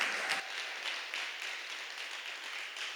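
An audience claps steadily to welcome a pastor at a theological seminary evening class, a dense, continuous round of applause that holds at an even level throughout with no voices over it.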